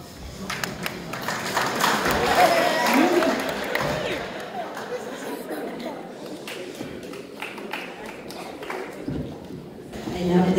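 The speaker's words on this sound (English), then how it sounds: "I love that everyone is so enthusiastic with the applause." Scattered audience clapping at a boys' semi-final Shakespeare competition results session, swelling briefly then thinning into sparse claps, with a voice talking over parts of it.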